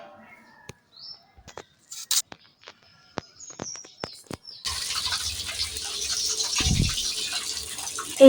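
Tap water runs and splashes over cut tilapia pieces being washed in a village kitchen. Scattered clinks and drips come first, then a steady broadband gush, close and moderately loud, with no talk.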